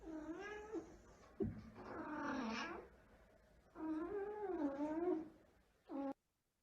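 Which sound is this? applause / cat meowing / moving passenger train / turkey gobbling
cat meowing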